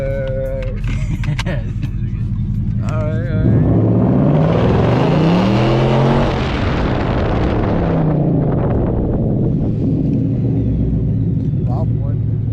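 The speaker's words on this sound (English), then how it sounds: "How was your test drive in the Mustang?" A 2020 Ford Mustang GT with a 5.0 V8 revs hard on a test drive, a loud deep engine roar that swells and rises through the gears, heard from inside the car, with people talking before and after.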